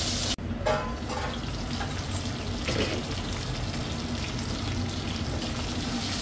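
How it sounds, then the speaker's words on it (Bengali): Fish frying in a pan gives off a steady, close sizzle that holds evenly throughout, with a brief dip near the start. "আস্তে আস্তে মাছটা ভাজি দেবো"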